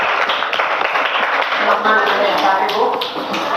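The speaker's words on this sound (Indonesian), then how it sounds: "silakan tepuk tangan" Students in a classroom clap after a group presentation, a loose scattering of hand claps mixed with background voices and room noise over a few seconds.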